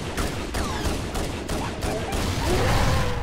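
An enemy blows up during a Halo firefight, a run of repeated sharp bursts and gunfire cracks with a rising roar of explosion debris near the end, fairly loud and continuous.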